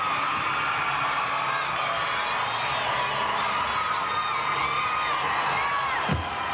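Crowd cheering and whooping in an arena at a 2002 NCAA women's gymnastics meet, Alabama at LSU, with high excited voices and shouts sustained throughout, a commentator talking over it.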